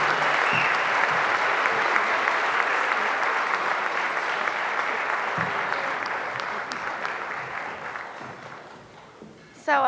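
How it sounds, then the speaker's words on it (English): Sustained applause from an audience at a youth leadership awards ceremony, dense and steady clapping filling the space, gradually tapering slightly before a sharp burst at the very end. "I'm sure they're tired from all the clapping and excitement"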